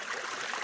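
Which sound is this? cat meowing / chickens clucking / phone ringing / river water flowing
river water flowing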